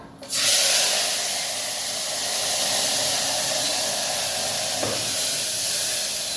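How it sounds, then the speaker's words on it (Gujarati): Mustard seeds, cumin and asafoetida hit hot oil as vegetables for undhiyu are tempered, a sudden loud burst of sizzling hiss that settles into a sustained, close steam-like roar with no talking. "હિંગ આ વઘારીએ શાક"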